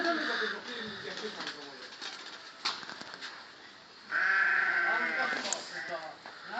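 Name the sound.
sheep bleating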